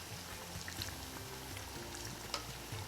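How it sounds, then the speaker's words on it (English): A kachori fries in hot oil with a steady, dense crackling sizzle and scattered small pops, heard close and continuous without any voices. "Now I'll place it in the hot oil."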